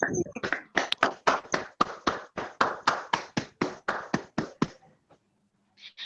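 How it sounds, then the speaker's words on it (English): Clapping for a third-prize winner at a month-end prize ceremony: about a dozen and a half crisp, evenly spaced claps in a steady rhythm, close and clear, stopping abruptly before a short silence. "Please give a huge round of applause to Samruddhi."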